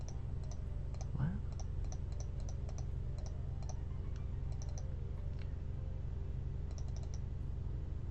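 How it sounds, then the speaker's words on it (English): Rapid clicking of keys on a computer keyboard, quick irregular bursts over a low background hum, fairly faint. "you're typing way too fast"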